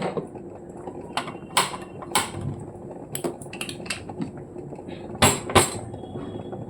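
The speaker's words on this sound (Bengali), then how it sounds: "মাংসটা তো এবার আমি প্রেশার কুকারে বসিয়ে এই গ্যাসে বসিয়ে দেবো" A pressure cooker holding meat is handled and set on a gas stove, producing a series of close metallic clinks, clatters and knocks in irregular bursts, with no talking.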